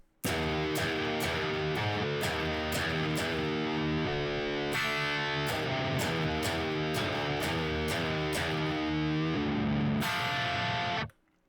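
A distorted electric guitar riff played at full volume: rhythmic chugging chords alternating with sustained hits, looping twice before stopping short.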